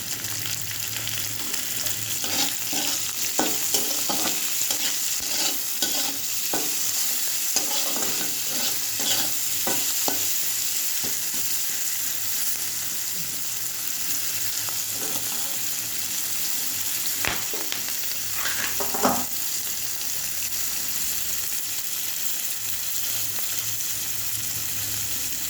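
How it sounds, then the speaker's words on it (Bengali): Onions sizzle steadily in a hot pan while a utensil scrapes and stirs them in irregular strokes, close-up and continuous, with no one talking. "পেঁয়াজগুলো ভাজা হয়েছে"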